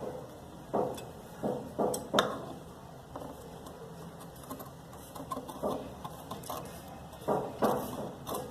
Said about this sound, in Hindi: हम इसके बीच में से कटिंग करेंगे